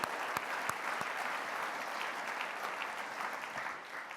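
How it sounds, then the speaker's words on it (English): Sustained audience applause fills a large hall at a governors' summer meeting in Salt Lake City, Utah, following a national anthem performance; a steady dense clatter of many hands clapping, with a few sharper claps near the start. "Let's give him another round of applause."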